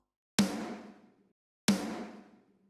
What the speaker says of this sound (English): a snare sample